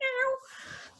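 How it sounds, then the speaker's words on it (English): A single angry cat meow, sharp and harmonic at first, trails into a breathier, rougher sound, fairly close and brief. "that sounds like one angry cat"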